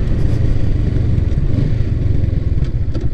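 A motorcycle engine runs loud and close, a steady mid-pitched rumble with slight revving surges as the bike rolls out, a little mechanical clatter riding on top.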